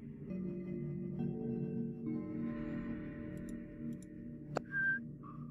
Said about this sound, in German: Hör auf zu pfeifen.